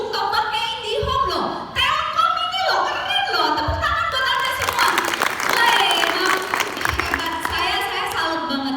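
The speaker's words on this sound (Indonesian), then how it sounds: "Tepuk tangan buat Anda semua." An audience at an Indonesian event for Telkom's IndiHome service claps. The applause begins under a speaker's voice and swells into a dense, lively round of clapping that fills the second half.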